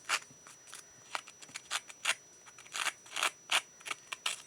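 Craft paper card edges being distressed with a blade or scissors, giving quick crisp scraping snips in irregular bursts, close and fairly loud, with no talking.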